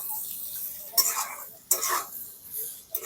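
A spoon stirring and scraping a singara filling of potato and cauliflower with salt, turmeric and green chilli paste in a pan: a few sharp scrapes at uneven intervals over a soft sizzle, close by, with no talking.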